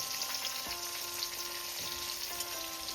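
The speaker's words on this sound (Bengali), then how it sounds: "আমি সবসময় একটু আলু ভেজে নিই, বেশি ভাজবো না, হালকা করে ভাজবো" Potato pieces fry lightly in mustard oil for a mutton curry, a soft, steady sizzle with faint crackles and occasional stirring clicks, quiet and close, with no talking.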